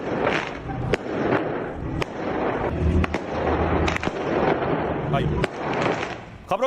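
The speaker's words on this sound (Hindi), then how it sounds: "अफगानिस्तान में जो आतिशबाजी हो रही है उसका नजारा है" Fireworks bursting in celebration of Afghanistan's cricket win, a steady run of sharp pops and cracks over a dense, noisy crowd roar, with voices mixed in throughout.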